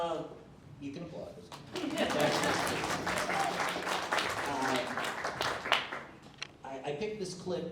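Audience at a club's October meeting applauding, clapping swells to a steady patter with some chuckles and fades after a few seconds, with people talking before and after.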